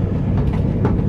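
Steady rumble of a train running along the rails, a continuous low rolling noise from inside the carriage with no pauses.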